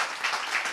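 Audience applause at a talk show, a brief burst of dense, even clapping that holds steady throughout.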